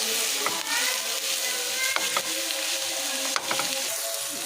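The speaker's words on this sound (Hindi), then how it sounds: "अब हमारी सब्जियां जाएंगी, शिमला और बंद गोभी, गाजर जाएगी। इसे करेंगे अच्छे से मिक्स।" Capsicum, cabbage and carrots are stir-fried in a pan for vegetable pasta, a steady loud sizzle with scraping stirs throughout.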